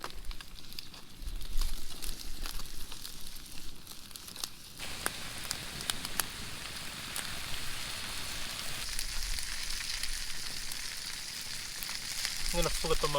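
Trout sizzle and fry steadily over a crackling campfire in a high alpine setting, a constant hissing sizzle with occasional pops and wood crackles close by.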